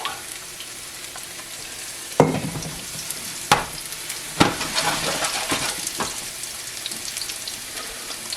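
Pieces of chicken for General Tao chicken fry in a hot pan, a steady close sizzle broken by several sharp bursts as they are stirred and turned, with no voices.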